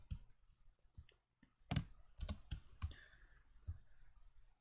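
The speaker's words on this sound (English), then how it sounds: "and press the spacebar." A spacebar pressed on a computer keyboard while modelling in FreeCAD 0.20: a few faint, scattered key clicks, some spaced apart and a small cluster in the middle, with no talking.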